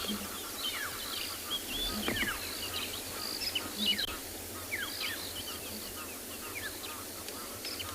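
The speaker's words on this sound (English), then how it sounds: "And it's such a massive sound for such a bird." Birds call at sunrise on an African safari, a dense chorus of chirps and whistles carrying over a steady background hiss, with one louder nearby call standing out among the more distant ones.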